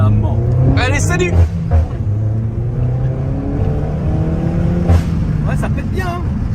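A Peugeot car accelerates in a tunnel, its exhaust giving a few sharp pops and crackles over the engine drone while people talk throughout.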